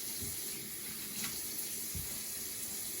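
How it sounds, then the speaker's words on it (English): Kitchen tap running warm water into a sink, a soft continuous hiss of flowing water, faint and steady throughout. "I'm going to turn the water on, get a little bit of some warm water going."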